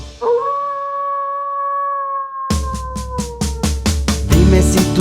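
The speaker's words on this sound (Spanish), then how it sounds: "Dime si tú sabes cómo hace el lobo, vamos a escucharlo tú y yo." A wolf gives a long, sustained howl that holds steady and slowly fades, then a burst of rapid, rhythmic music-like beats takes over for the last half.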